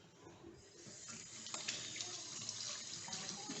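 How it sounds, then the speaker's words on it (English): Tap water runs steadily into a kitchen sink while hands are washed beneath the stream, a continuous close splashing with small irregular spatters and no talking. "I'm going to wash my hand."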